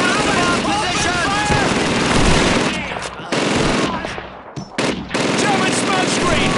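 An MG-42 machine gun in Call of Duty 2's Battle for Caen fires dense, sustained automatic bursts that are loud and continuous, broken by a few brief pauses. Shouted voices and battlefield noise sit under the firing.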